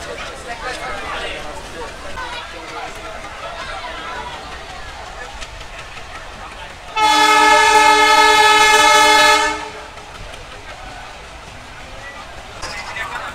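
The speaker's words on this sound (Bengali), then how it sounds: "আর আমাদের ট্রেন এখন ছেড়ে দিচ্ছে কাটাখালি স্টেশন থেকে" A Mongla commuter train pulls out of Katakhali station with a constant rolling rumble. Partway through, a long, loud horn blast sounds and then stops, and voices murmur faintly underneath.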